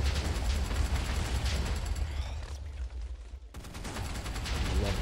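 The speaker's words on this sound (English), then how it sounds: "It explodes." Explosions from the HBM Nuclear Tech mod in a video game, a dense, loud rumbling barrage of blasts and crackling bursts that drops out briefly midway before the roar resumes.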